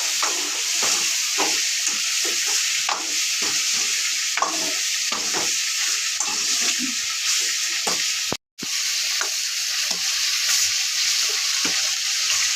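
Chicken seasoned with salt, chili powder and turmeric is stirred in a pan, a steady sizzle of frying with repeated scraping strokes of a spoon against the metal, close and continuous with one brief dropout.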